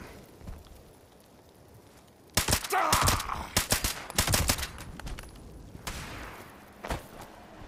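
Gunfire from a weapon in Fallout 76: a dense burst of rapid shots starting partway in, running for several seconds, then a brief lull and one or two more sharp reports near the end.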